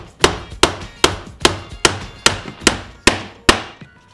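A hammer drives wooden farmhouse corbel pieces together with nine sharp, evenly spaced strikes, each ringing briefly before the next. The blows are close and loud, with no voices.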